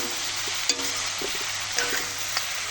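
Goat meat with onions sizzling steadily in a pan, with a few soft scrapes and knocks as it is stirred, close and continuous, no talking.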